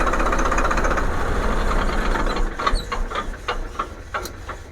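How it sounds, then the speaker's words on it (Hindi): A tractor diesel engine idles at about 650 RPM with a fast, even knocking rattle, close and continuous, easing slightly in loudness toward the end with a few sharper ticks. "स्टार्ट होते ही इंजन आरपीएम बिल्कुल नॉर्मल।"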